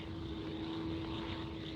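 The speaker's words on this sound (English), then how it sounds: "But maybe they saw a plane back there." A propeller airplane flying overhead in a 1952 war film, heard as a faint, steady engine drone with an even buzzing tone, distant and unbroken.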